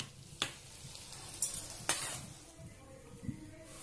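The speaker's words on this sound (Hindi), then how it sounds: "अब हमने पनीर ऐड कर दिया है। अच्छे से मिक्स कर लेंगे," Paneer fries and sizzles in a pan for chilli paneer, with a soft continuous hiss broken by a few sharp clinks and scrapes of a spoon stirring against the metal.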